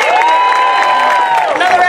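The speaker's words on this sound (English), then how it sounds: "applause for our intermediate orchestra." Audience applause and cheering for a school intermediate orchestra, loud and continuous crowd noise close by, with tonal sustained notes running underneath throughout.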